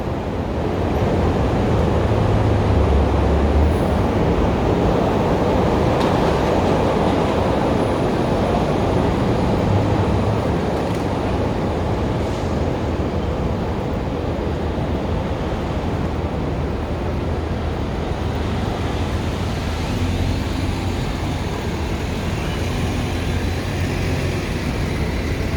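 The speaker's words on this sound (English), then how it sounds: "you can hear the train behind me" An elevated CTA train rumbles past on a downtown Chicago street, a steady, loud, broadband roar lasting the whole stretch and blending with city traffic, with no talking over it.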